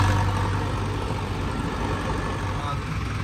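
A tractor engine runs in a continuous, loud low rumble that stays steady throughout the short stretch, with crowd and road noise mixed in.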